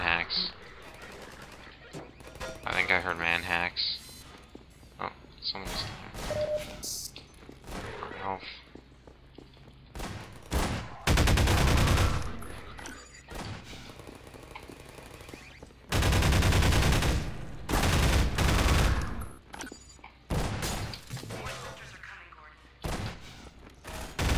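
Automated turrets in Half-Life 2 unleash long bursts of rapid gunfire between quieter stretches of game ambience, with a player talking and reacting in between.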